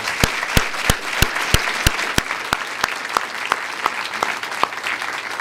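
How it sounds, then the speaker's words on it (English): Applause at an academic research day session for nine presenters, with a crowd clapping steadily and several loud, sharp individual claps standing out close by in a regular rhythm. "So let's give those 9 participants a round of applause."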